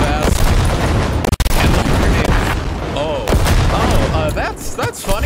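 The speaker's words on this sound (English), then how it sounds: "He is really not bothered by my grenades. I am bothered by his bullets, though." Gunfire and grenade blasts from the video game Cyberpunk 2077 form a loud, dense barrage of rapid shots and booms, with whooshing effects and voices mixed in throughout.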